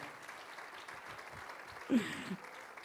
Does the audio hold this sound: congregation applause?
yes